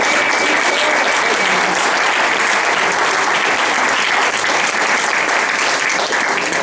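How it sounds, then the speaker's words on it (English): An audience at a wrestling hall of fame induction ceremony applauds loudly and continuously, a dense sustained wash of clapping from a full hall with no break. "please give her another hand of applause"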